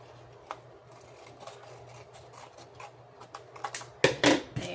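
Scissors cut the edge off a sheet of scrapbook paper: scattered faint snips and paper rustles, then a louder burst of crisp cutting crunches at the end.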